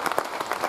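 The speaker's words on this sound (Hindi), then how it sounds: "आप लोगों से गुजारिश है कि जोरदार तालियों से स्वागत" Brief, moderately quiet clapping from an audience at a religious sermon gathering, rendered as a short burst of scattered claps.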